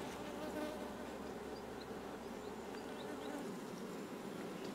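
Honey bees buzz steadily around an opened beehive during a beekeeping session, a dense, continuous drone of many insects close by, with no talking.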